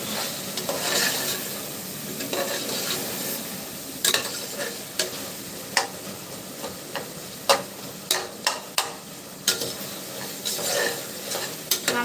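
Onions and spices sautéing for Tamil-style mutton curry, a steady sizzle with a spoon scraping and stirring in the pan, plus sharp metallic taps of the utensil against the rim recurring through the second half; no talking.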